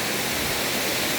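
Constant rushing wash of falling water at Dunumala waterfall in Gampaha, Sri Lanka, a dense unbroken roar heard close and alone.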